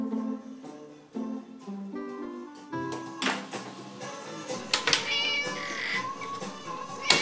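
Hungry house cats meow repeatedly, the calls rising and falling in pitch, with soft taps and household clatter mixed in; the mewing grows louder and busier toward the end.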